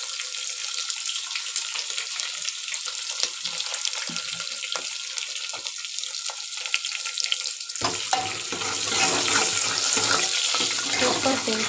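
Shallots and dried red chillies fry in hot oil with curry leaves, a steady crackling sizzle that swells sharply louder partway through as the ingredients go into the pan.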